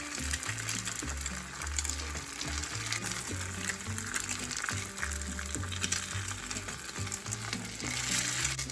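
Three eggs fry in a pan over medium-low heat, giving a steady, even sizzle that runs the whole time beneath a soft musical backing.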